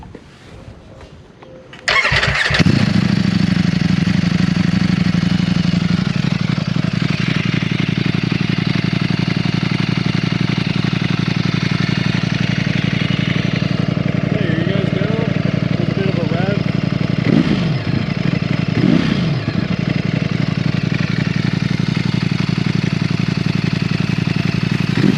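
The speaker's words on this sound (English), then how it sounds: "let's do a startup and get this nice and close to the exhaust" A 2020 Ducati Streetfighter V4 motorcycle fires up close to the exhaust after a brief quiet start, then settles into a loud, steady idle with a few short throttle blips near the end.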